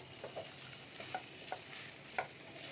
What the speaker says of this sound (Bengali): ভালো করে আলুটাকে মিক্স করে নেব।